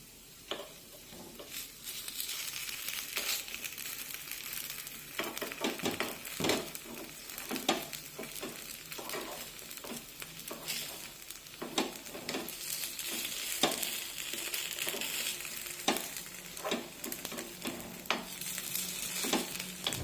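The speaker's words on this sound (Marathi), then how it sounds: "यांवर तेल सोडूया. आणि पलटून घेऊया." Carrot appe frying in oil in an appe pan and being flipped, a steady close crackling sizzle running throughout with scattered sharper pops and clicks of the utensil turning them.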